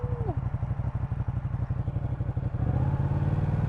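A Ducati Panigale 899 motorcycle rides through a ditch, its engine a steady, close, low pulsing chug that rises into a firmer rev near the end, with a brief voice briefly heard over it.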